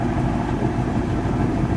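A black 1950 Buick Roadmaster convertible idles nearby, a steady low rumble with an even, dense texture and no voices over it.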